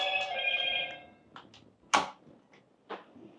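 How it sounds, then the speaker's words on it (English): A mobile phone chimes with a message notification, a bright multi-tone ringtone lasting about a second, followed by a few soft knocks and shuffling sounds in a quiet room. "My phone, man. A message coming, man."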